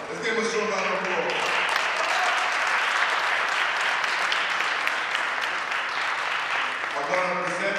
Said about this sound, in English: Let's give him a strong round of applause.